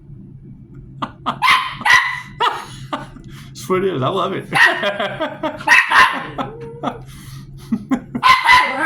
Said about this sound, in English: She's looking at absolutely nothing, barking like hell.